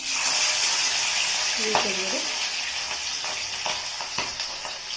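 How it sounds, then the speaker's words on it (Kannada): Fish frying in hot oil, a steady bright sizzle and crackle running throughout, with a few louder pops and faint clinks of a utensil near the middle and end; no voices. "ಈ ಎಣ್ಣೆನೆಲ್ಲ ಹಾಕೊಂಡು ಫ್ರೈ ಮಾಡ್ಕೊಂಡು ಫ್ರೆಂಡ್ಸ್"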